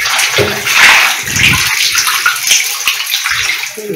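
Water rushes hard from a water filter system during backwash, a loud, steady, close-up gush that fills the whole stretch without a break.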